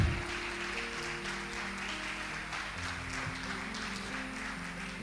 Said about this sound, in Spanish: Damos un aplauso grande